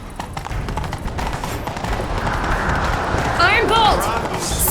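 A horse gallops in The Witcher 3, its hoofbeats a steady, quick clip-clop over a dense wash of ambient game noise, growing slightly fuller toward the end.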